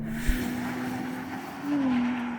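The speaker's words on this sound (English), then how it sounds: "I'm going to launch it." A Porsche Panamera 4S E-Hybrid launching hard from a standstill, its engine a steady loud drone as the tires scrabble for grip, with a brief thump near the start and a rise in pitch toward the end.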